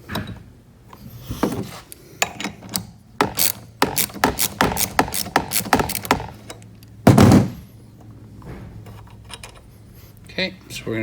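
A hand ratchet clicks in quick bursts while tightening the 13 mm locking nut on the tie rod of a 1300 W electric ATV, with a heavier metallic clunk midway and a voice talking between strokes.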